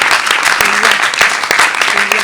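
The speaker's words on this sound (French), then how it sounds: "Merci, on applaudit." Applause from the audience at the final of a French book summary contest, a short burst of clapping with distinct individual claps close to the microphone, and a faint voice underneath.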